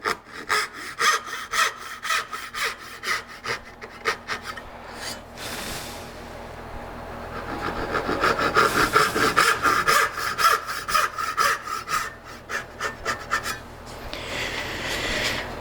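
A hand saw cuts wood for drawer parts in quick rasping strokes, the rhythm pausing briefly midway before resuming faster and louder, close up with no talk.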